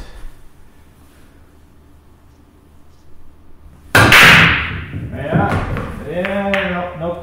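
A soft break shot in 10-ball pool: after a quiet stretch, one sharp cue-ball strike and clatter of balls scattering, followed by rolling knocks and rail hits, with a voice talking over the tail.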